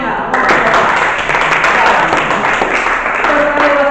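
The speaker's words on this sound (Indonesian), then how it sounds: "Kita kasih aplaus juga jawabannya." Audience applause fills a classroom-style session, a steady wash of clapping lasting several seconds, loud and close.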